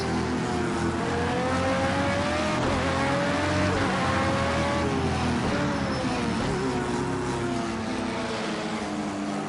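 Race car engines in Project Cars 2 at the Dubai circuit roar continuously, pitch rising and falling as they rev through gears, loud and close with a dense layered engine drone throughout.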